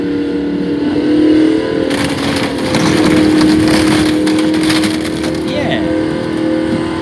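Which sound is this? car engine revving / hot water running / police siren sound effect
car engine revving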